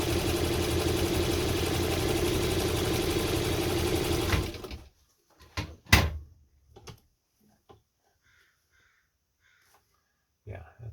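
A Belvedere Class 15 sewing machine runs and stitches with a steady, close mechanical whir that stops abruptly partway, followed by a few faint clicks and knocks.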